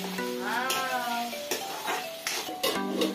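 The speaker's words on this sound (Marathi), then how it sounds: "कांदा परतल्याच्या नंतर आता आपण यात टमाटा घालून घेऊ।" Tomatoes added to sautéed onions sizzle in a pan while a spoon stirs, scraping and clinking against the metal, close and steady with a continuous frying hiss.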